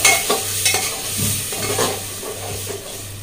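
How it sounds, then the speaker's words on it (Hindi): Spinach paste frying in a pan, stirred and scraped repeatedly at close range over a continuous sizzle, with a low steady hum underneath and no voices. "अब हम साथ में ये पालक का पेस्ट भी इसमें डाल देते हैं। और इसको अच्छे से भून लेंगे।"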